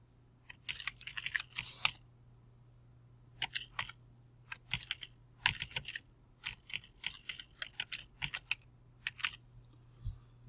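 Bursts of clicky keystrokes on a computer keyboard, typing a name into a 5-inch round maze program, arriving in quick clusters separated by short pauses over a low steady hum.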